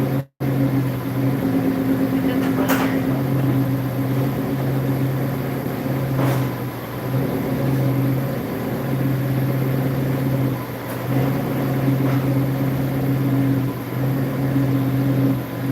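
A car engine idles at about 1,000 RPM through a newly fitted quiet exhaust, a loud, steady low hum with an even throb that stays constant throughout, briefly interrupted near the start.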